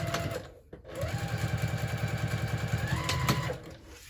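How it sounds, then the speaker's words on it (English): Sewing machine top stitching a fabric hobo bag: a fast, even mechanical chatter of needle strokes running steadily for a few seconds after a brief start, close and clear. "I'm going to go ahead and top stitch on either side of that"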